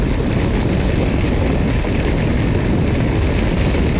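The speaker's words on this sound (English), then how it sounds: "we're going to pick some speed up now and see what the fairing's like" Wind rushing past a 2024 Harley-Davidson Road Glide motorcycle as it picks up speed, a loud, steady roar of wind and engine that fills the whole clip, with no voices.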